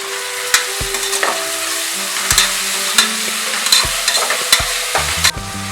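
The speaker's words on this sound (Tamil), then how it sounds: "கொஞ்சம் அடி பிடிச்சிடாமல் நல்லா வதக்கி விட்டுக்கோங்க" Mushroom biryani ingredients sautéing in a pan, a loud continuous sizzle broken by repeated sharp clinks and scrapes of a spoon stirring against the metal, with no voices.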